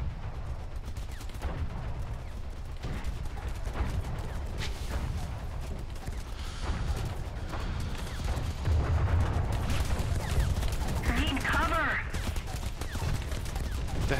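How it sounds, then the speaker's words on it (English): Rapid machine gun fire in the War Thunder video game during a realistic battle in Eastern Europe, steady bursts of shots under engine rumble and distant battle noise, fairly quiet and continuous. "Shooting his machine guns non-stop."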